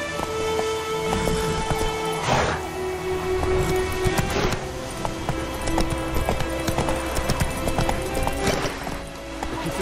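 The horse Roach gallops in a video game, its hooves beating a steady, rhythmic clip-clop that runs through the whole stretch, close and clear over a soft ambient music bed with no talking.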